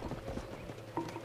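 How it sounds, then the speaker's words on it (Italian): Horse hooves clip-clop in a steady walking rhythm in GTA 5 Online, close and clear over a low game ambience. "Vado a prendere anche un cavallo"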